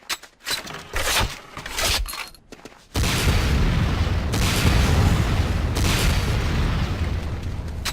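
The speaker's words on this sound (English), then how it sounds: "Next up is the Sakoze 66mm type R12 Locust automatic rocket launcher." Rocket launcher fire in Command & Conquer: Renegade, a few scattered bursts at first, then a loud, sustained roaring blast that fills the rest of the stretch.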